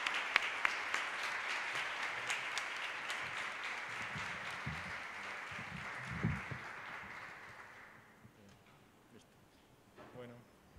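An online lecture audience applauds at the close of a psychology talk, a bright burst of clapping that swells early, holds, then thins out and fades, with voices talking as it dies away.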